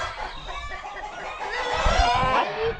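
Several laying hens squawk and cluck loudly close by, overlapping agitated calls continuing without pause.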